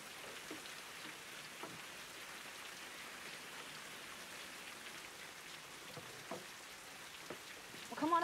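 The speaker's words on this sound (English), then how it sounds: "It's raining on top of the roof." Steady, moderately faint rain patters on a roof in a Western ranch setting, a continuous hiss of drops with a few slightly louder taps near the end.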